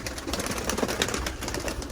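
Domestic pigeons in a loft on a humid, rainy day, a flock just released, coo in a dense, continuous chorus with scattered wing flutters; no one speaks.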